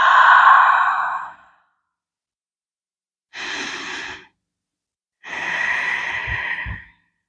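Slow, deep breathing during a seated yoga stretch, with three long audible exhales separated by quiet pauses, close and clear.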